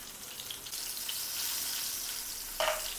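Aloo patra taro leaf rolls shallow frying in a pan, a soft, quiet sizzle that swells after a moment and holds steady, with a brief brighter clink near the end.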